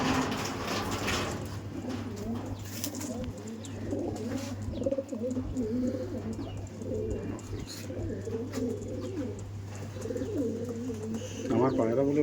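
Andhra pigeons coo steadily inside a loft, soft rolling calls overlapping throughout beneath a constant low hum, with someone talking over them.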